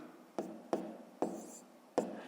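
Math answer being written by hand, with four distinct tapping strokes of the pen or chalk, each followed by a short scratchy drag, close and quiet, with no voices.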